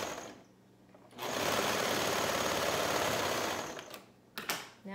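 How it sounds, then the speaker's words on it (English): A sewing machine stitches a ruffle onto a shirt, a fast steady whirring chatter running for about three seconds between quiet pauses, close and clear with a few clicks at the end. "Now we can finish sewing this ruffle on."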